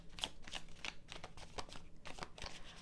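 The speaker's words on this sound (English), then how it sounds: "Oh, Lord of the shuffling." Tarot cards being shuffled by hand, a quiet series of soft riffling flicks and slaps coming in irregular bursts, close and alone without talk.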